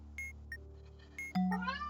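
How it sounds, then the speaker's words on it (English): A cat meows a few times, short nasal cries with a longer drawn-out one near the end, fairly close over a low steady hum. "So if you can hear my cat, by the way"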